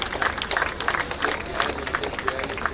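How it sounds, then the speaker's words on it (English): An audience applauds at the prize distribution of the Suhas Nadkarni Memorial Badminton Tournament at MIG, Bandra. The clapping is dense and steady throughout, with a faint murmur of voices underneath. "Yes, keep the claps going, ladies and gentlemen."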